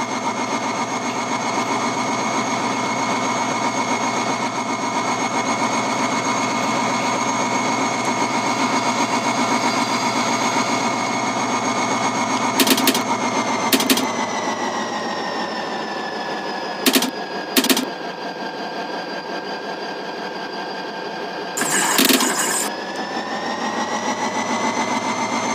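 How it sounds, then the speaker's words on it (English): Train engine running in a mobile train-driving video game, a steady droning hum with engine harmonics throughout, interrupted by a few short bright clicks or bursts, no talking. "Let's move the engine forward to that checkpoint."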